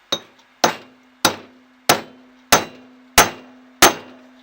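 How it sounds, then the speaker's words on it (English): Hammer tapping on the front wheel hub of a Ford 4000 tractor: seven evenly spaced, sharp, ringing metallic strikes close by, each decaying quickly over a steady low hum. "And yeah, I'm going to tap it with the hammer."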